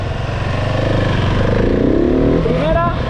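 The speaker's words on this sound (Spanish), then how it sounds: "Esta moto tiene mucho poder." A Kawasaki KMX motorcycle engine runs loud and close, then revs upward toward the end with a rising whine.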